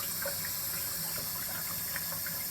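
Water from a household supply line runs through a hose into a water heater tank, giving a steady, fairly faint trickling and splashing that continues without pause and without any talking.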